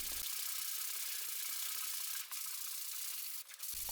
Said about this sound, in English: The sandpaper on a sponge gives the best result, especially for this bendy area.